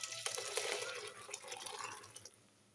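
Cooked homemade wheat-flour noodles are poured from a pot into a vessel, making a close, soft watery rush and trickle that fades toward the end, with no speech.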